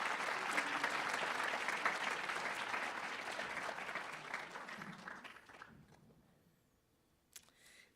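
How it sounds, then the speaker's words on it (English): A conference audience at the UIST 2022 closing keynote breaks into loud, sustained applause that gradually fades to near silence, followed by a few scattered claps and a camera shutter click. "So again, a big round of applause for all of us."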